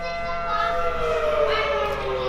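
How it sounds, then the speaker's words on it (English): Emergency sirens wail steadily in a short burst, their layered tones gliding slowly up and down, loud and continuous throughout. "sirens are going off again"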